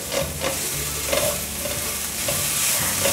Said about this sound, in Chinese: 把南瓜泥炒香，大约略炒一下，放入腰果，快速翻炒